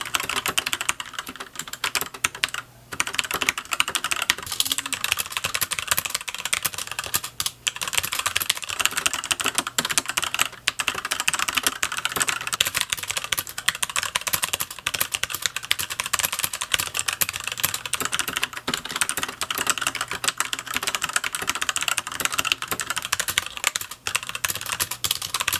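Steady, continuous typing on a Rakk mechanical keyboard with a TKL layout, crisp key clacks in a dense rhythm with no talking.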